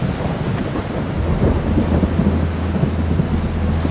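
Heavy rain pours steadily at night in a hillside town, with deep rolling thunder rumbling beneath the constant hiss throughout, loud and close with no voices.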